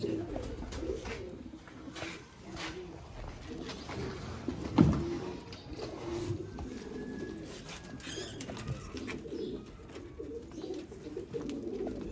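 Pigeons coo softly and continuously in a loft holding about 70 birds, a low layered murmur with a few small knocks and no speech.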